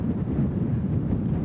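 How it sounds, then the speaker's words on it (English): Low, steady wind rumble buffeting the microphone for a brief moment in Maizuru Park, Fukuoka, with no other clear sounds. "it's getting windy"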